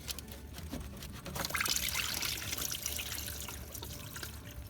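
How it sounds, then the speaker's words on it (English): Antifreeze drains from a disconnected radiator hose on a Honda Civic into a bucket below, a steady close pour and trickle of liquid that swells briefly in the middle and then settles. "before we pull this off, you want to make sure that you have a bucket underneath to catch the fluid"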